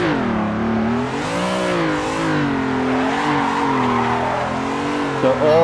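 A BMW M3 or Toyota AE86 drifts through Assetto Corsa, the engine note wavering steadily as the throttle is feathered, with tire squeal running continuously and close throughout.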